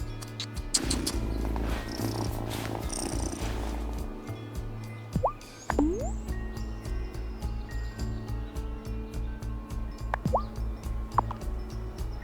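A cat purrs in the video game Wylde Flowers: a steady, close, low rumbling purr that runs throughout, with a few light chimes and clinks scattered over it.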